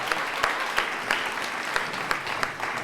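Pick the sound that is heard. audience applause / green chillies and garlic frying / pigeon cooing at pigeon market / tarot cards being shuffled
audience applause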